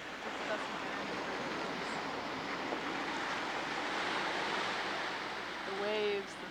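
Ocean waves wash steadily onto a Maine beach, a continuous broad rushing surge with wind, and a faint voice briefly surfaces near the end.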